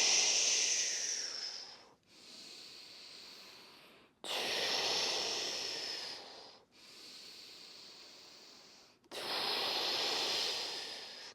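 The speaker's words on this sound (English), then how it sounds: "3 cleansing breaths. Breathing in. In through the nose, out through the mouth." A person takes cleansing breaths during a breathwork session, drawing in through the nose and blowing out through the mouth, long airy hissing inhales and exhales alternating in a slow steady rhythm, close and alone.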